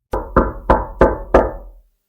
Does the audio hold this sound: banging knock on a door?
yes